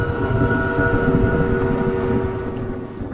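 The train in the video game Choo Choo Charles gives a loud, steady droning hum with layered tonal harmonics over low rumbling, fading slightly toward the end.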